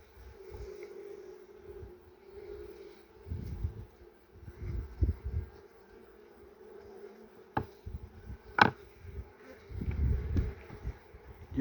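Bees buzz steadily inside an opened hive where queen bee cells are being built, with a continuous drone near the listener and a few louder passes and handling knocks.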